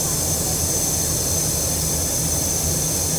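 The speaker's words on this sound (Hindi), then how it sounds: "इंडियन रेलवे का 7200 आज़ाद लोकोमोटिव है। यह 1947 का बना हुआ है।" A 1947 Indian Railways steam locomotive, number 7200 Azad, gives off a steady, loud roar of hissing steam and low mechanical rumble that holds evenly throughout.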